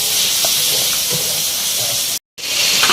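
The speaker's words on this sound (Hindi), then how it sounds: "चिकन को आपको फ्राई कर लेना है" Chicken pieces fry in hot oil for an Afghani karahi, giving a loud, steady, close sizzling hiss that runs continuously and breaks off for a moment near the end.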